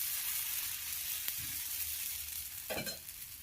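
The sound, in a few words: dosa batter sizzling on a hot pan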